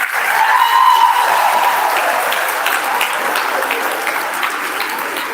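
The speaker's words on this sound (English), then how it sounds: "You can give a big round of applause for this." Steady, sustained audience applause at a national workshop on nuclear energy in a college hall, many hands clapping loudly and evenly with a faint whistle early on.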